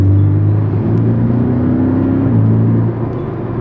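A Porsche Cayman 718 S in Sport Plus mode with its exhaust valves open, a loud, close, steady engine note with a deep drone that dips slightly toward the end.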